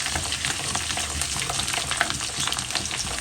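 Crushed garlic and curry leaves sauté in oil in a heavy kadai, a close, busy frying crackle with light stirring, steady throughout and with no talking.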